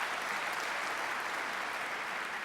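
Audience at a Rotary district conference applauding, a loud, dense, steady wash of clapping from many hands that fills the whole moment without a break.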